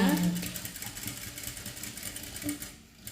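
A sewing machine stitching along a folded hem on a government school uniform coat, a steady close mechanical whir running the whole time beneath a voice giving instructions in Tamil.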